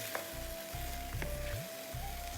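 Masala for a butter chicken lasagna sizzles in a pan as it is stirred, making a continuous, moderately quiet crackling hiss with brief scraping sounds over a low background hum.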